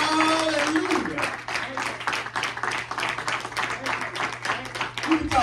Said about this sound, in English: Let's give God a hand clap of praise up in here